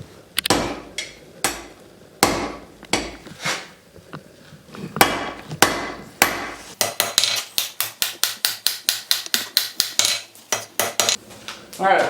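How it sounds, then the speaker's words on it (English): A hammer forges iron hinge pins for 18th-century horseshoe hinges, striking metal on an anvil: a few spaced ringing blows give way to a fast, steady run of sharp, loud strikes. "so now we got both hinge pins forged"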